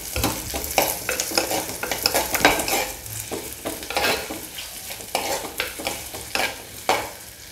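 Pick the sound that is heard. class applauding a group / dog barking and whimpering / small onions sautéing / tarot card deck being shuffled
small onions sautéing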